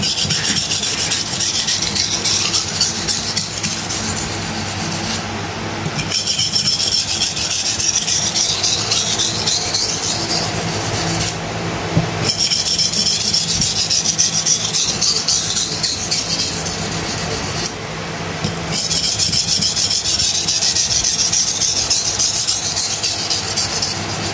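A Victorinox factory knife being sharpened on a higher-grit whetstone, long continuous rubbing strokes with a gritty scrape, broken by three brief pauses, close and fairly loud, no talking.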